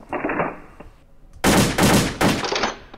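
Automatic AK-47 fire at a shooting range in World of Guns: a few quiet shots at first, then loud, close bursts of rapid shots with short pauses between them.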